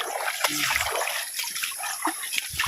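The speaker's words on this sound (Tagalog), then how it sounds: "Bakit may agos pala may tubig yung ilog?" River water trickling and splashing in a continuous, fairly faint stream, with small bubbling gurgles and a brief low murmur of background voice.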